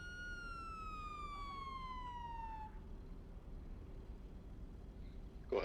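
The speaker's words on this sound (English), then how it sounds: "Well, he finally turned that siren off." A police siren in the GTA roleplay video game sweeps downward in a single long wail and winds down to silence within about three seconds, leaving quiet background hiss and a brief click at the end.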